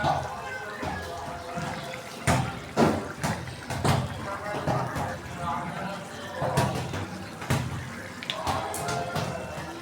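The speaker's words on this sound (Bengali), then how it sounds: "জলের পানি দিয়ে দেবো।" Water is poured into a cooking pot of fish and fried spices, splashing and trickling in irregular bursts while a voice talks quietly in the background.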